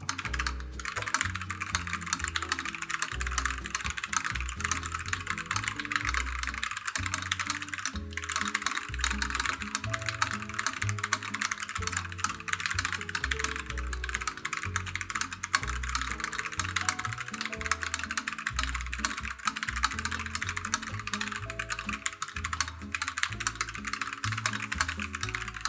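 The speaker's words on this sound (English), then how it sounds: "let's do a quick typing test first." A 1stplayer GA87 gasket-mount mechanical keyboard is typed on continuously, with steady close rapid key clacks and occasional louder thocks over a longer stretch and no voices.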